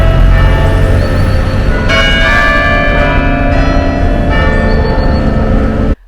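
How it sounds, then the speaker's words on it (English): Church bells of St. Clement Danes on the Strand in London ring out the tune Oranges and Lemons, loud and close, with overlapping tolls sounding in a continuous melodic peal for about six seconds before cutting off. "That's the sound of the church bells playing the famous nursery rhyme, Oranges and Lemons"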